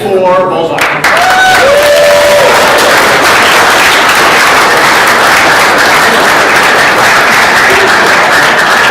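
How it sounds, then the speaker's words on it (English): An audience at a live startup venture competition breaks into sustained, dense applause that fills the room, with a brief musical tone at the start and the clapping continuing loud and steady throughout. "Let's keep clapping for Bullseye."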